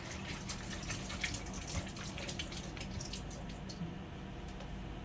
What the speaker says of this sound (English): I'm just gonna rinse it out first a little bit. So I'm gonna put a little bit in there and just kind of shake it out.